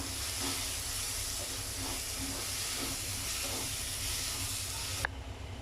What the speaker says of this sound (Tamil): இதோட பச்சை வாசனை போகிற வரைக்கும் இதை நல்லா நம்ம வதக்கிக்கலாம்.